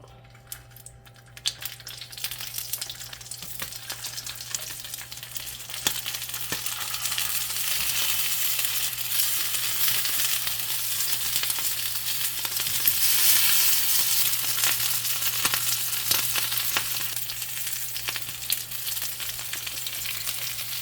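Rice cooking in a little olive oil for Arabian chicken mandi, a loud continuous sizzle and crackle that swells slightly midway, with occasional scrapes and clicks and a low steady hum underneath, no talking.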